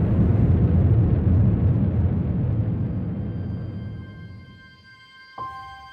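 A large man-made explosion: a deep, roaring rumble that slowly fades over several seconds, followed near the end by a sharp crack and faint ringing tones.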